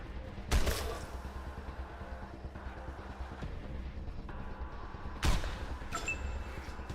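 Video game gunfire cracks out in two sharp loud bursts, one near the start and another later, over a steady rumbling background with no talking.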